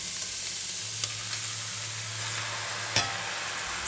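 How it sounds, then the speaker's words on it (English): Black fungus being stir-fried in garlic oil in a pan, giving a steady soft sizzle with light stirring scrapes and a couple of brief clinks, close and fairly quiet, with no talking. "Stir to get a nice coating of garlic oil."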